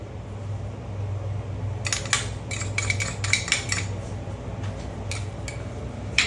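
A metal utensil stirs buttered garlic seafood in a pan, giving scattered clinks and scrapes against the pan over a steady low hum, fairly close.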